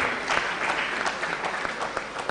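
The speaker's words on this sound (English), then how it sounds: "Please clap for them." A school audience applauds the event sponsors with dense, continuous clapping that holds at an even level throughout, with no talk on top.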